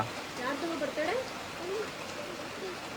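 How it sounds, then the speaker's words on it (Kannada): Heavy rain pours down in Mantralayam as a steady broadband hiss, heard under nearby voices talking throughout. "ಧಾರಾಕಾರವಾಗಿ ಮಳೆ ಬರ್ತಾ ಇದೆ"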